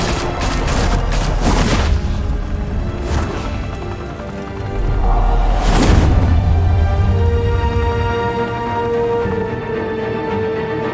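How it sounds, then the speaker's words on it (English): Gunfire in the Batman: The Telltale Series video game, with loud dense volleys of shots and booms over a steady rumbling background, sustained throughout and close. "Open fire!"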